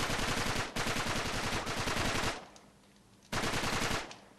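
Automatic weapon fire in the video game Uncharted 3, loud sustained bursts of rapid shots, a pause of quieter tail near the end, then another burst starting abruptly; no talking.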